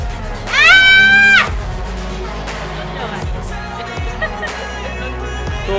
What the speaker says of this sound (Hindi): मेरे पीछे जो दीवार है इसके ऊपर लिखा हुआ है कि आप कितनी जोर से चिल्ला सकते हैं